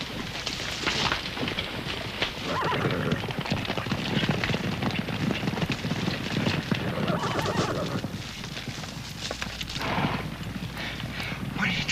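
A horse neighs and whinnies loudly while hooves clop continuously close by, a busy stretch of snorting calls over steady hoofbeats with no talking.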